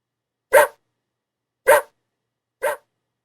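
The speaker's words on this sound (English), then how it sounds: "It's the puppy." A puppy gives three short, sharp barks spaced about a second apart, close and clear with silence between them, as a sound effect in a children's animal picture book.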